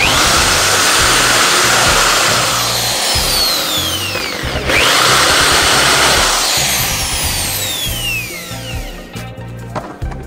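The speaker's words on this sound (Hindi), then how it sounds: "यहाँ देख सकते हैं दोस्तों इससे हम होल करेंगे" Power drill boring a hole during a repair of a condenser pump's fan, loud and continuous whining with shifting pitch across about ten seconds, briefly easing off midway and near the end, no talking.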